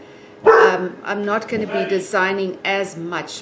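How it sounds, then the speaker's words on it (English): Dogs bark in the background, partly masked by a person talking steadily in the foreground. "Pardon about the dogs."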